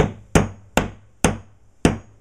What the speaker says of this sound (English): Now I'm going to give it a little tap with the hammer